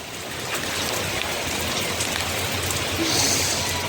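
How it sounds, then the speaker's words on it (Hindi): Steady broadband rain hiss, the season's first rain falling outdoors in the evening, continuous and fairly loud throughout with no voices over it. "गीला होना बनता है क्योंकि हमारा की पहली बारिश है"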